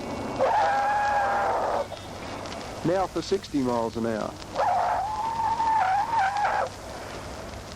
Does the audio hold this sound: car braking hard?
yes